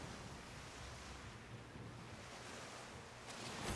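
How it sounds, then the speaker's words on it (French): Wind at sea in the pirate game Skull and Bones rushes as a steady, broad whoosh mixed with surf, holding even before swelling slightly louder at the very end. "Eh, le vent."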